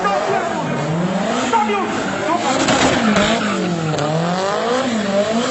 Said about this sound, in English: shows a car maneuvering around the woman at high speed